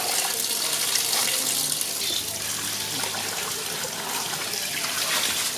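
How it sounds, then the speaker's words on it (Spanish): Water pours steadily over a pot of cooked maize to cool it before washing for tortillas and totopostes, a continuous close splashing rush with no talk. "Y primero le estoy echando agua para que se enfríe."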